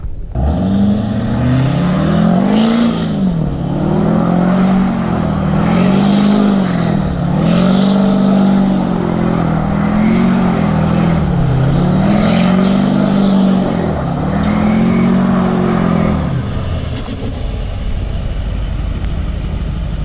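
A car doing donuts on dusty ground, its engine revving loudly in steady repeated surges as it spins, close by and continuous, with no talking.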